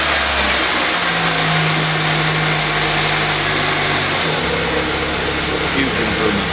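Pontiac Vibe engine revving while new motor mounts are tested, a loud sustained mid-range engine drone with rising and falling revs, close by, continuous throughout.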